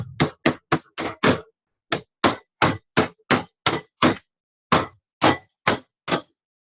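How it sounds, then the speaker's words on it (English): A heavy object delivers about seventeen sharp, loud thwacks to break up a solid chunk for making a caustic solution, struck in quick bursts with short pauses between groups. "Give it a few good whacks."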